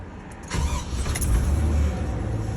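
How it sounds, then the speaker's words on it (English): A pickup truck engine catches and settles into a close, low idle, with a rumbling rise about half a second in, running steadily after a kill switch is switched on; no one speaks. "Truck is running."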